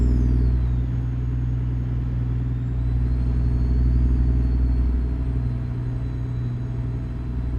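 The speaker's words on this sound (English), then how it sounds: "slows down pretty fast with that retarder in the transmission" Kenworth W900 truck in American Truck Simulator slowing under its transmission retarder, a loud, steady low engine rumble with a faint high whine, holding constant throughout without any talk.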